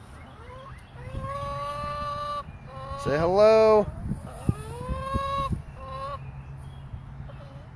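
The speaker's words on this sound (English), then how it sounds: "See, we've got some chickens here." Farm chickens call out in a run of honking, throaty clucks, one loud drawn-out cry near the middle and shorter calls around it, while a person briefly speaks nearby.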